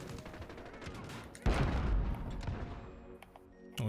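A sniper rifle fires in the Modern Warfare video game: one loud, sharp shot with a rumbling tail, set among fainter gunfire cracks and a final click.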